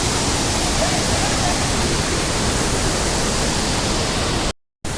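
Waterfall at Irikkur, a steady broadband roar of falling water that holds loud and constant throughout, cutting out briefly near the end before resuming.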